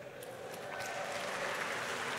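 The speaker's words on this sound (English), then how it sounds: "Hold your applause." Audience applause at a debate over whether God exists, a steady wash of clapping from a large crowd filling the hall and swelling slightly toward the end.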